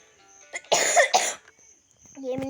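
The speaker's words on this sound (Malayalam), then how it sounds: "എനിക്ക് കുറച്ച് ചുമയുണ്ട്" Two harsh, close coughs in quick succession, followed by a short voiced sound at the end.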